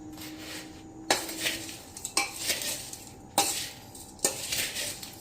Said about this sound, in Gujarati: તો આ રીતે આપણે હવે ખાંડ અને આ કેરીના કટકાને મિક્સ કરી લેશું